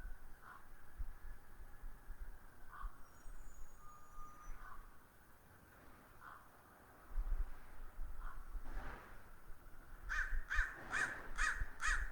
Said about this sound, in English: As the crow pulls me back into this moment, right here, right now, cawing above my head